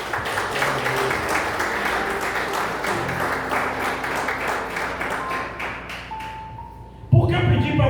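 A church congregation applauding, a dense, sustained wash of hand clapping filling the room for several seconds with voices mixed in, then fading as a louder sound cuts in at the end.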